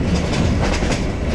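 Hawr Express night train running at speed on a worn Jaydebpur–Mymensingh line, heard as a loud, steady rumble with rattling wheels and clattering carriages close by, with no voices.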